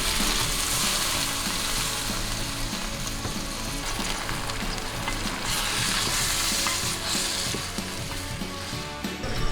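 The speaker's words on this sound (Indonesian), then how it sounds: "sekarang masukkan biji karetnya. Kasih air juga secukupnya. Masak sampai bumbu meresap ya." Rubber seeds and water go into a pan of fragrant frying spice paste, giving a steady, dense, close sizzle that holds evenly throughout with faint stirring scrapes and no voices.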